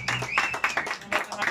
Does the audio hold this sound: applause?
yes